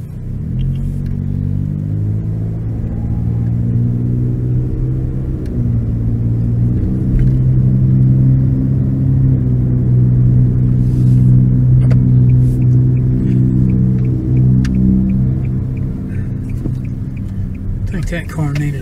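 A car with a rough, rumbling engine drives along residential streets in Thomaston, Georgia, its loud, low droning engine swelling and easing steadily throughout.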